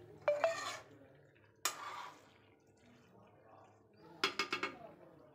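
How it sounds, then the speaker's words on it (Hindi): A lid clanks onto a pan of aloo gobhi, making a few distinct metallic clatters: one near the start, a sharp clang a bit later, then a quick rattling series of taps near the end. "तो अब मैं इसको थोड़ी देर के लिए ढककर छोड़ देती हूँ।"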